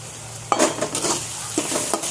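Masala with coriander powder, black masala and garam masala stirred and roasted in a pan, giving a soft steady sizzle broken by a few scraping spoon strokes, close up with no talking.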